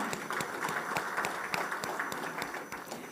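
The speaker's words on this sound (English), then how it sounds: "Please, a round of applause for her." Audience applause at an awards recognition during an international trade seminar: a steady patter of many hands clapping, moderately distant and even throughout.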